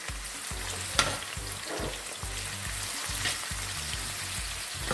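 Scallion, pepper and garlic hit hot oil for a Jamaican-style brown stew pork, raising a loud, continuous sizzle close by with some stirring noise mixed in, and no talking.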